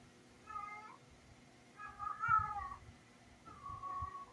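A cat meows three times close by, with drawn-out, wavering cries separated by short pauses in a quiet room.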